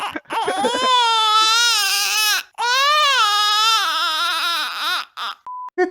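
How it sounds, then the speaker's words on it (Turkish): Played-back recording of a baby crying, loud and close, in long wailing bursts with a brief gap midway, ending with a short beep. "sen o ağlama sesini açtın"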